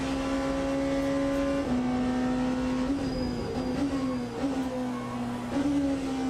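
A Porsche race car engine in the Le Mans Ultimate racing game drones loud and steady, its pitch dipping and climbing through several gear shifts, with no talking.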